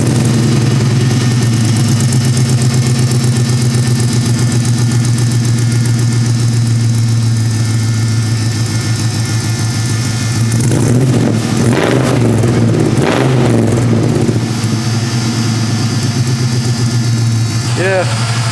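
A 1984 Buick Electra LS1-swapped wagon idles with a loud, deep rumbling V8 burble, then blips its throttle in a few rising revs near the middle; voices talk over the engine.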